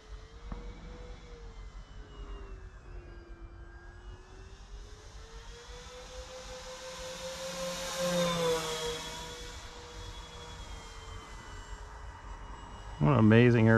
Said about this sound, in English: What an amazing airplane.